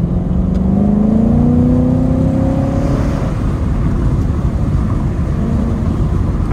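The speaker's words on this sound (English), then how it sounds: "Damn, that wind kind of hit. I can hear it." Wind roars steadily through the open windows of a moving Camaro 2SS, a loud broadband rush with engine tones rising and fading underneath and no talking.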